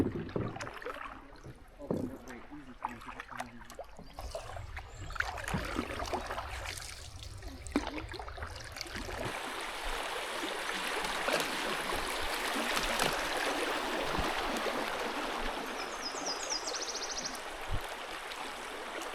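Small Forant Creek flows at a canoe put-in near the Rivière Noire, a steady rushing babble of water close by with occasional splashes and knocks, growing fuller and denser partway through.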